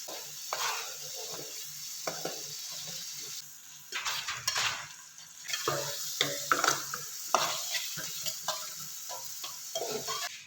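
Eggs frying in butter in a pan for egg macaroni, a moderate crackling sizzle broken by spatula stirs and scraping clinks against the pan.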